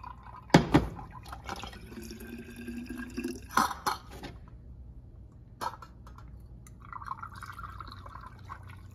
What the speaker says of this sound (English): When you're using a funnel and it gets full and it's not moving, you have to lift it to keep the flow